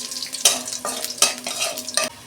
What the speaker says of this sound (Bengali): ওই তেলে আমি কালো জিরে দিচ্ছি।